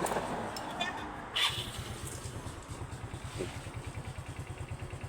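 Motorcycle with a newly fitted sidecar, its engine catching after a brief start and settling into a steady, rhythmic low idle close by, running fairly quietly while people talk over it.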